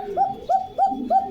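Two domestic pigeons for sale cooing together at a pigeon shop in Bogura, four rhythmic rolling coos repeating close and clear with no talk over them.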